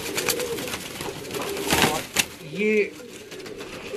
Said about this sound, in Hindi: पुरानी नस्ल का कसूरी कबूतर है।